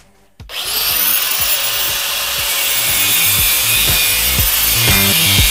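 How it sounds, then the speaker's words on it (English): Power grinder cutting welds off a steel shifter linkage yoke, starting up abruptly and then holding a loud, sustained whining grind close by. "So if I just grind those welds off, I can take that yoke off the end"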